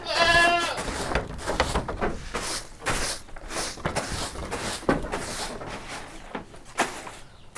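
Goats on a small Indonesian farm, including a billy goat, bleating repeatedly at close range, several overlapping loud calls in an irregular rhythm with pen noise between them.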